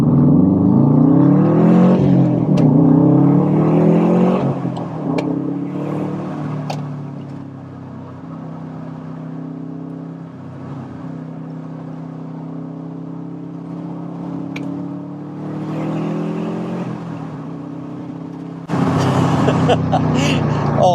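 A forged-engine UK Subaru Impreza STI accelerates hard, its loud rumbling boxer growl climbing in pitch through the gears, easing off, then surging again near the end.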